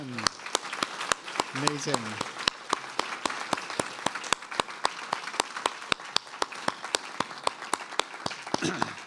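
An audience at a faculty presentation applauds steadily for several seconds, dense clapping close and sustained, with a brief spoken exclamation and some voices mixed in.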